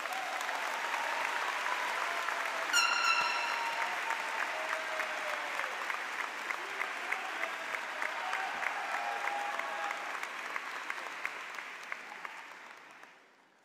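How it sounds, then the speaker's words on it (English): Sustained applause from a large high school graduation audience, a steady wash of clapping with a few whistles, gradually fading out at the end. "Please join me in giving a warm round of applause"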